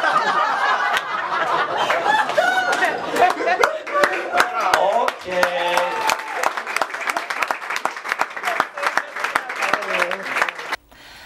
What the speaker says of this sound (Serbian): publika se smejala i aplaudirala ti je